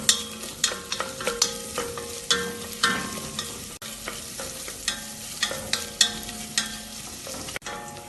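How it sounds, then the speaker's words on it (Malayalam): Sliced onion sautéed with whole spices in a pan for chicken mandi, with a steady sizzle under repeated scraping stirs of a spoon at an uneven rhythm, close and fairly loud; no talking. "ഇത് ഇളക്കി വഴറ്റാം."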